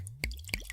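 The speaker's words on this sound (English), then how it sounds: "I'm just gonna pour some water in this bucket lid" Water poured into a plastic bucket lid in a shop, heard as two close, distinct splashy plops about a third of a second apart, each with a short bright drip.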